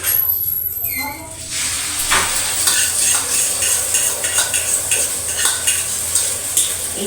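Food sizzles in a hot pan while a utensil stirs and scrapes against the metal, making a steady frying hiss broken by irregular clinks and scrapes. A voice briefly speaks near the start.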